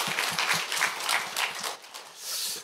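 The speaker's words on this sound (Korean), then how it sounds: "박수 한번 다시 한번 하시고요." An audience claps together at a church event, a steady run of applause lasting the whole stretch, moderately loud and dense with no voices on top.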